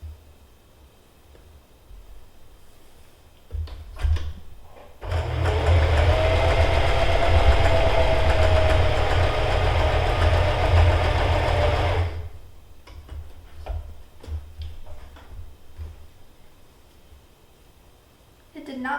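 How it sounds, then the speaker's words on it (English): A sewing machine test-stitching a piece of fabric runs in one steady whirring burst of about seven seconds, close and fairly loud, with quiet handling noises and faint talk before and after. "We need to test sew a piece. I'm gonna test fabric right here."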